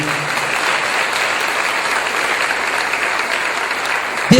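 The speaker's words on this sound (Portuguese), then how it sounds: "Aplauda o Senhor por essa palavra" A church congregation applauds during a sermon, with dense, steady clapping held for about four seconds before a voice cuts in briefly at the end.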